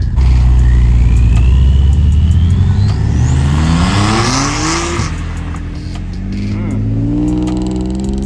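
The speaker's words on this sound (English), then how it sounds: "Dang, you hear the turbo on that?" A turbocharged car pulls away hard from a Cars and Coffee meet, its engine roaring loud and close, then revving up through rising pitch sweeps with a whining turbo as it moves off.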